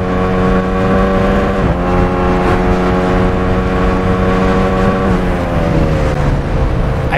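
Motorcycle engine from the racing game TT Isle of Man 2, a steady loud drone with strong harmonic tones, dipping briefly near two seconds and sliding lower toward the end, with no talk over it.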